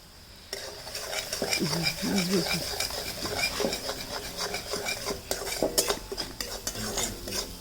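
A spoon stirring and scraping ingredients sautéing in a pan while cooking pithla in a Konkan kitchen, busy rhythmic metal clinks over a low sizzle, close and continuous, with brief voices in the background.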